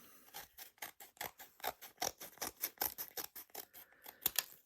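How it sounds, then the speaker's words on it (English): Victorinox Alox Companion Slim scissors snipping through three layers of cardboard, a fast run of about twenty crisp, close cuts in steady rhythm, with no talking. "the scissors, which are very, very high quality. They cut extremely well"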